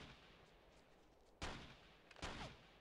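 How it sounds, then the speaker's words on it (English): Two heavy gunshot blasts in the video game Tom Clancy's Ghost Recon on PS2 boom a second apart over a steady low background rumble, the second followed by a quick rattle of shots. "I hear gunshots."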